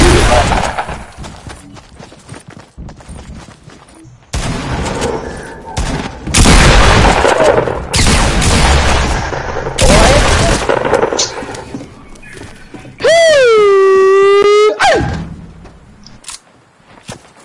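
Video game gunfire comes in loud, abrupt bursts and booming shots separated by short gaps, with a warbling electronic tone near the end and someone talking between the shots.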